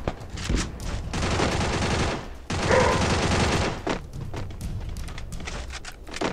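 Sustained bursts of rapid automatic gunfire in the Free Fire battle royale game, loud and dense for several seconds with short pauses between volleys.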